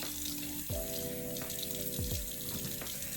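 Water runs steadily from a bathroom tap while face wash is rinsed off, a continuous splashing flow broken by a few brief sloshes as hands scoop water.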